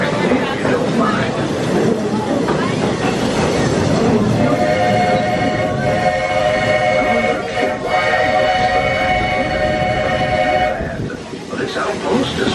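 Walt Disney World Railroad train rolling along with steady loud rumble and clatter, a sustained whistle-like tonal note sounding through the middle stretch, voices faintly present under the noise.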